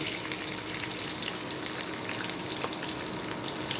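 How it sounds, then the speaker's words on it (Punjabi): Garlic for besan kadhi, added to hot oil alongside curry leaves, fries with a dense, even crackling sizzle that stays loud and continuous, heard close with no voices. "ਅਸੀਂ ਹੁਣ ਇਹਦੇ ਵਿੱਚ ਪਾ ਦਾਂਗੇ ਲਸਣ"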